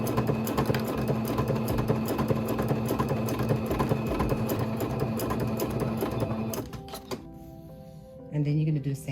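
A sewing machine stitches bias tape onto a clear vinyl pocket notebook, a loud steady rapid whirring that stops near the end, followed by a brief mechanical clunk, as someone talks over it.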